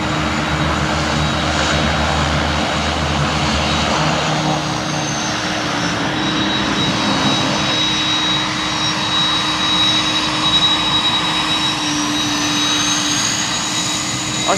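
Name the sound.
Airbus A300 freighter jet engines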